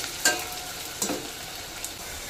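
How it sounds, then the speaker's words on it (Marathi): Onion and curry leaves sauté in a pan for a bean curry, giving a steady frying sizzle broken by three sharp stirring scrapes, close and clear with no voices. "कांदा छान परतून झाला आपला."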